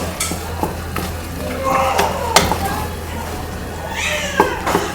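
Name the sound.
stirring saag in pot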